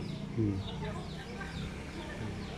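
Chickens cluck softly close by, short low calls scattered under someone speaking calmly outdoors.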